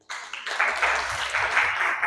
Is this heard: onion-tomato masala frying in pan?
no